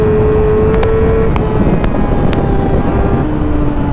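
A 2009 Yamaha YZF R6 motorcycle on the move gives a loud, steady drone of engine and intake noise with a faint whine running through it, and a few brief high ticks stand out near the start.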